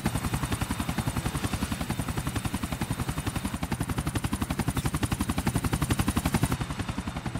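A helicopter in Grand Theft Auto IV hovers close by, its rotor thumping in a fast, steady, loud rhythm throughout with a whining engine tone on top and no talk.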